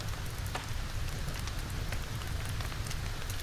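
Steady rain falls and patters on surfaces, a dense continuous hiss with scattered close droplet ticks and no voices.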